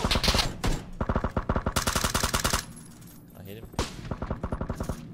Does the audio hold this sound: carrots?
no